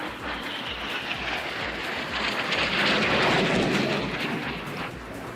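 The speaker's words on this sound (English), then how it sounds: "Now the aircraft will be flying upside down again." Jet engine roar from an aircraft flying inverted during a Farnborough airshow display, a loud, broad rushing drone that swells toward the middle and then eases off, with no voices.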